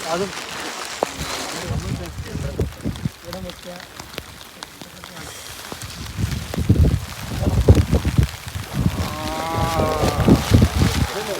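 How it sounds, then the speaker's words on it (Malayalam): Heavy rain pours down steadily at Nelliarachal, a broad hiss of downpour running throughout and growing heavier toward the end, with people talking over it at close range. "നല്ല മഴ തുടങ്ങി ഞങ്ങളപ്പോ ഇവിടുന്ന് പോവാണ്"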